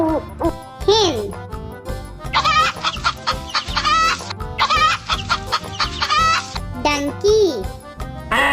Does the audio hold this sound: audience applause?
no